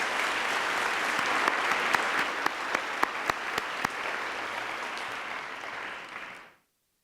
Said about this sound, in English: another round of applause, please, for John, Harry, and Brian